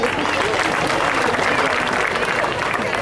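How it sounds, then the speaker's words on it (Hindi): Loud, dense applause from the audience at a Bharatiya Janata Party Scheduled Caste social front conference, a steady wash of clapping that holds for about three seconds with a crowd murmur mixed in. "एक बार उनके लिए जोरदार तालियां"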